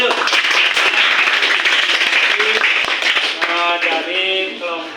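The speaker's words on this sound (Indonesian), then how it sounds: "Tepuk tangan dulu." Classroom clapping after a group presentation, a scattered run of hands clapping that thins out as a voice begins talking near the end.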